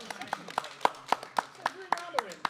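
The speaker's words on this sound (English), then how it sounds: "Round of applause." Clapping after a debate among Premier League fans, about nine sharp claps at a steady, fairly quick rhythm, close and moderately loud over a faint background of voices.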